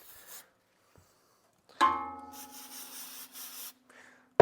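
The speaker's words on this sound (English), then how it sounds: "I'm just gonna go ahead and give this one more spray down" A hissing spray of cleaner onto a stainless steel exhaust lasting about a second, with a brief squeaky rubbing sound at its start and a few faint clicks around it.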